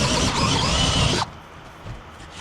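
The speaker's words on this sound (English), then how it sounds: "So I'm drilling a hole and drilling a bigger hole to make room for it." Drill boring a hole through a 2x8 inside a SIP wall: a loud, harsh whirring grind for just over a second that cuts off abruptly, leaving quiet room noise.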